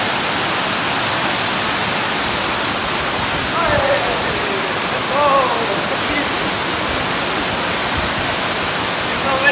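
A waterfall in South Africa roars in a dense, steady broadband rush, close and loud for the whole stretch, with faint voices briefly audible beneath the noise.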